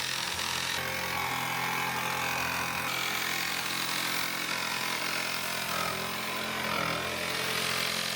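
Power tool cutting a hole through the metal body of a Promaster van, a steady continuous grinding, rasping whine that stays loud and close throughout with no speech.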